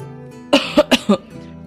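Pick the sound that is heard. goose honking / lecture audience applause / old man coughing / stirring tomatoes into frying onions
old man coughing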